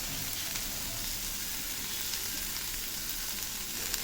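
Sesame seeds roasting in a pan while chickpea masala is prepared, giving a steady, close, dense sizzle and crackle that holds evenly throughout with no voices.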